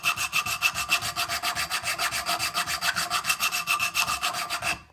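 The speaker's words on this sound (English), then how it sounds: "So you take your strip and go along here like this." Abrasive sanding belt strip pulled back and forth by hand over the rounded sides of a freshly glued wooden knife handle, a steady, rapid rasping rhythm of close, loud strokes continuing for several seconds before stopping abruptly.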